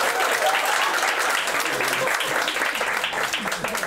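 Broad, sustained applause rolls through a stand-up comedy audience, many hands clapping at once, with voices murmuring and calling out beneath it throughout.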